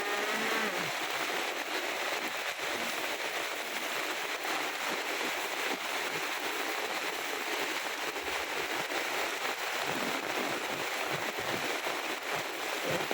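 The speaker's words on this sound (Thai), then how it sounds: "เสียงฟ้า เสียงฝนเสียง คำรามมาใหญ่เลยนะคะ" Steady heavy rain hisses down over a flooded house and its roof in a broadband wash that continues without a break, with no distinct thunderclap standing out.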